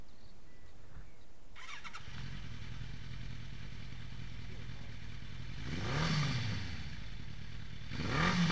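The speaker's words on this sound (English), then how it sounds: "you can hear it backfiring a bit" An AJS Tempest scrambler motorcycle with a timing fault sputters and idles roughly, with two louder popping backfire bursts later on, heard at moderate distance.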